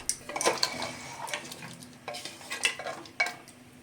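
Mutton paya being stirred in a wok after a little water is added, with scraping spoon clatters against the pan over a soft sizzle, irregular strokes close up and no talking.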